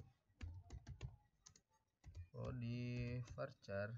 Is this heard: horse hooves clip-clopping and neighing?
no